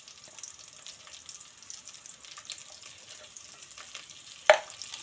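Vegetables for sambar cooking in a pan, giving a soft, steady sizzle and faint stirring scrapes, with one sharper clatter near the end.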